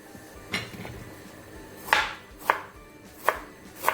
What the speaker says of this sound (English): I'm going to just cut this onion.